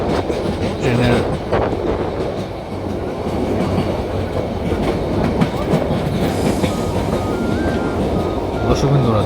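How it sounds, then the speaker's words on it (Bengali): A long-distance train on the Dhaka to Cox's Bazar line runs at high speed, with a steady loud rumble and rhythmic clickety-clack of wheels on the rails throughout, and faint voices in the background. "অনেক গতিতে যাচ্ছে ট্রেনটা"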